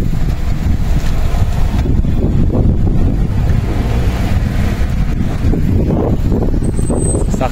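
Strong wind buffets the microphone continuously with loud, rough rumbling gusts, with faint traffic noise beneath.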